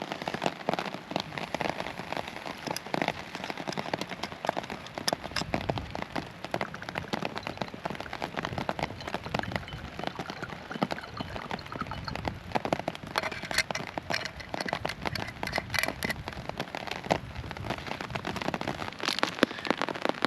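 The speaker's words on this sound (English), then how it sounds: "And we're getting plenty of rain." Steady rain pattering on a tarp shelter at a camp in wet weather, a dense continuous hiss of drops with occasional sharper close taps, no voices.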